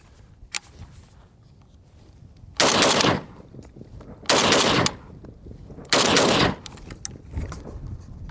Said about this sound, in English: we're gonna do some double tap drills and just see how fast I can bring the rifle up from a low ready and just shoot